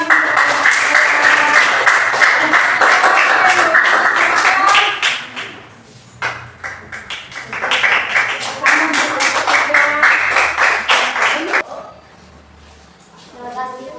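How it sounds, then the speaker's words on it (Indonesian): Primary school classroom clapping, children clapping hands loudly and close in dense rhythmic bursts that pause briefly and resume, with voices chattering among the claps. "Oke, tepuk tangan."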